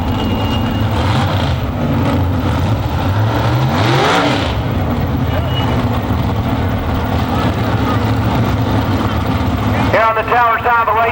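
Modified eliminator drag cars at a Farmington IHRA raceway roar loudly and continuously, with a rising engine sweep as one accelerates and a burst of rapid revving near the end, while an announcer talks over the noise.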